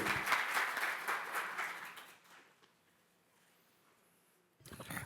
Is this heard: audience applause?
yes